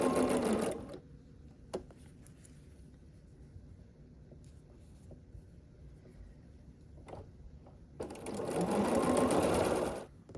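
Sewing machine chain piecing quilt block units, running in two loud bursts at the start and near the end with a quiet stretch of soft handling noises between.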